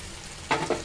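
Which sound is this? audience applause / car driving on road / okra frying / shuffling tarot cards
okra frying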